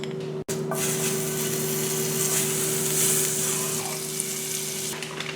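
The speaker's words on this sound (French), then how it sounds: "dans la même poêle, je vais mettre un peu de beurre" Butter sizzles steadily in a frying pan, a close, bright crackling hiss over a faint steady hum, broken once by a brief sharp cutoff near the start.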